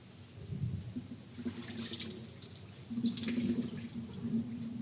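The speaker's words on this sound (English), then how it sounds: "The potatoes have been soaking for at least a half hour. Let's go ahead and drain the bad boys." Water draining out of a pot of soaked potatoes, a steady running and splashing pour with a low rumble, close and continuous throughout.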